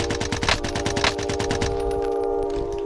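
Automatic gunfire in the video game Call of Duty: Modern Warfare, a loud rapid burst of evenly spaced shots over a steady tonal hum, thinning into fainter rattling toward the end.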